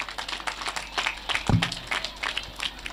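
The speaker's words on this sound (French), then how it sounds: "Je veux quand même qu'on l'applaudisse." Applause from an audience at a youth centre inauguration in Diack, a light, scattered patter of clapping lasting a few seconds, fairly distant and soft, with a brief louder knock partway through and little talk.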